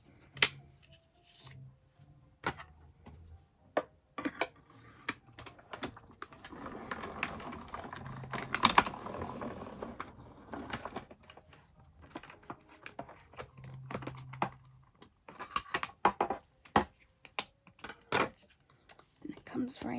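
A So Many Snowflakes die being cranked through a die-cutting machine, with a grinding, rattling pass in the middle and scattered clicks and taps of paper and tools around it, close and moderately loud, with brief low talk.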